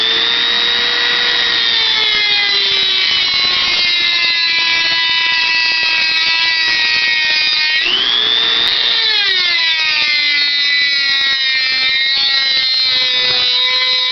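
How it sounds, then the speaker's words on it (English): A Dremel rotary tool scars the tang of a knife blank, giving a continuous loud high-pitched whine whose pitch dips and climbs as the tool loads against the steel. "I'm going to take a Dremel tool, and I'm just going to scar the tang so that the glue, the epoxy, will bite into it real good."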